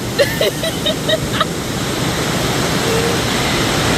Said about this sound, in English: we're gonna stay here until it stops raining.